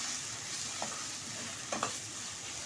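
Beef stir fry with sugar, black pepper and ketchup sizzles steadily in a pan while being stirred, with a few brief scraping clinks of the utensil, close and without talk.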